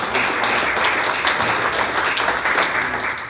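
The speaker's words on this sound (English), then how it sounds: "I'm sure we all need to give her a round of applause" A round of applause from the audience at a wealth and property expo, dense steady clapping filling the room at an even level throughout.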